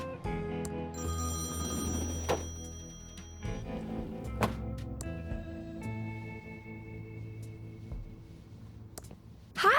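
Telephone bell in the point-and-click adventure game Thimbleweed Park, an out-of-order phone ringing in repeated bursts with clicks between, loud and close with no talk.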